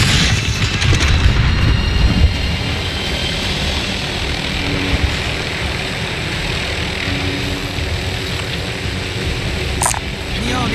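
An aircraft in the video game Plunder flies with a loud, constant engine and wind roar, a heavier rumble near the start, while voices talk over it.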